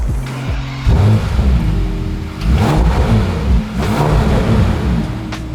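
A 2020 Bentley Continental engine revs loudly through an oval exhaust in repeated bursts, with a deep throaty exhaust note rising and falling across the clip, no talking.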